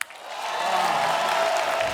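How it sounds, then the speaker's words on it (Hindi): A studio audience at a comedy show applauds a singer. The clapping is a sustained, even roar that builds quickly after a brief start and stays strong throughout. "अब जो आ रही हैं उनके लिए भी जोरदार तालियां"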